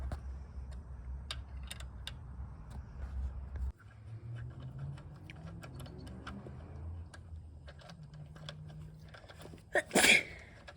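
A single short sneeze bursts out near the end after a stretch of quiet ticking and faint clicking sounds.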